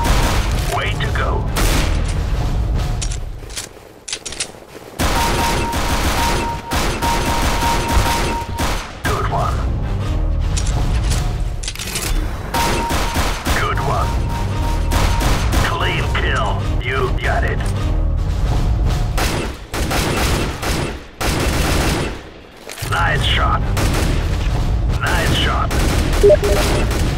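Dense, continuous gunfire from a Counter-Strike: Global Offensive deathmatch on fy_iceworld_classic, loud bursts and booming shots running almost without a break, with brief lulls and voices calling out over the shooting.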